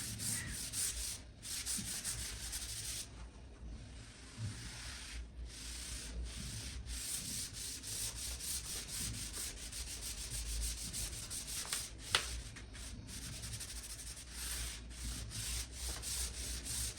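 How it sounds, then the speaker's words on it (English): A sponge dabs pale blue acrylic paint onto a canvas, making a close, continuous soft rubbing and scuffing texture with brief pauses between passes. "I start with a pale blue base, and using only this sponge, we can create a soft and even texture"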